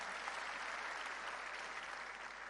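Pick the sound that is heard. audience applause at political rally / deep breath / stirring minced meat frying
audience applause at political rally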